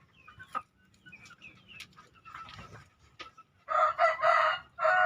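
A rooster crows in a semi-free-range chicken coop, the loud drawn-out crow coming near the end after quieter clucks and scattered bird noises, with no talking.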